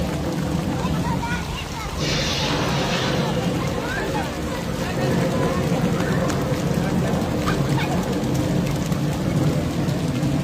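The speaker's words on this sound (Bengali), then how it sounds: "বড় বড় ফোঁটা বৃষ্টি পড়ছে এখানে" Heavy rain with big drops falls in a dense, steady roar close by, while people talk over it throughout.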